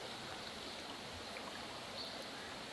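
Steady stream water rushing at a countryside bathing spot with a waterfall, a constant close broadband wash with no breaks and no voices.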